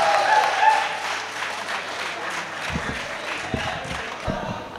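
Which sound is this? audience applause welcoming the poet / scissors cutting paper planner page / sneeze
audience applause welcoming the poet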